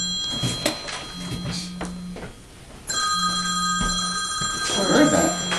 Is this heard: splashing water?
no